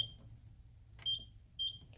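A microwave oven keypad gives three short, sharp beeps spaced roughly half a second apart while the timer is set for oatmeal, each beep clear and close over a low hum.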